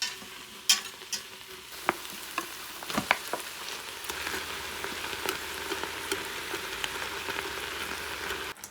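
Ground meat sizzling steadily in a pan while a whisk scrapes and breaks it apart, with several sharp clinks of metal early on over a continuous frying hiss.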